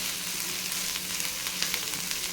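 Ginger garlic paste sautéing in a pan, a steady close sizzle and crackle of frying with faint stirring scrapes, no voices.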